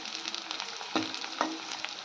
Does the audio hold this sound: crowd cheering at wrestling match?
no